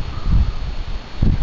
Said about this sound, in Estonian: Tuul on päris suur, nagu kevadel ikka